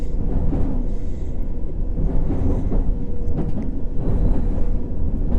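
A Circle Line train pulls into King's Cross station in the World of Subways game, its continuous loud rumble and rolling wheel noise steady throughout, no voices over it.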